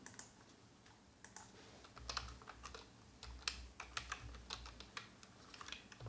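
Keys clatter on a computer keyboard as JavaScript code is typed, a quiet irregular run of close clicks and taps with short pauses, no voice.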